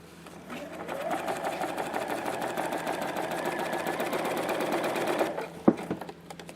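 A sewing machine stitches a seam on an invisible zipper in one steady, close run of rapid needle clatter, then stops with a short knock and quiet handling.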